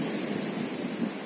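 Sea surf washing onto a Black Sea beach at Olginka, a continuous broad rushing hiss of breaking waves, steady and moderately loud with no voices.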